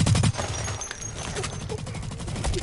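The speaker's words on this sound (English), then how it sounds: "I try and shoot someone and they're all over the place!" Rapid gunfire from a PS4 shooter game crackles in close bursts throughout, strongest at the start, with a player's voice faintly mixed underneath.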